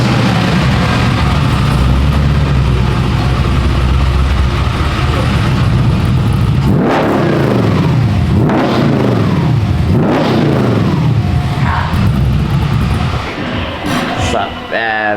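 Chevy C10 pickup exhaust: a loud, close engine rumble that breaks into several rising and falling revs over the second half.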